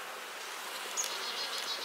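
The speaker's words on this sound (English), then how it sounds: "Uh-oh, sorry, bees." Honeybees hum steadily around an open hive during queen-rearing work, a faint, continuous buzz with a few individual bees passing closer.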